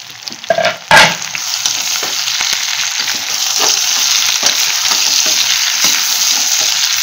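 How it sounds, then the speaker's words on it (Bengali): Large chunks of tomato dropped into a kadai of frying onions and capsicum for dhaba-style kadai chicken, a sharp clatter and burst of sizzle followed by a loud, steady hiss of frying that continues without pause. "আর এই যে বড় বড় করে যে টমেটো কেটে রেখে দিয়েছিলাম টমেটোটা দিয়ে দেবো"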